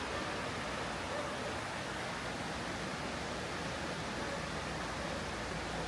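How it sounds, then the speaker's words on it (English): A lovely stretch of river beside Albarracin, a hilltop village in Spain, flows as a steady broadband rush of water that stays constant and fairly close throughout, with no voices. "And look at this lovely bit of river."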